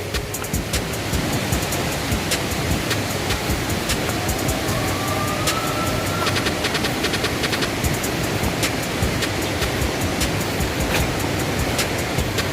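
Steady broadband roar of Palaruvi waterfall in Kollam, Kerala, a dense continuous rush of falling water heard close and loud throughout, with no voices over it.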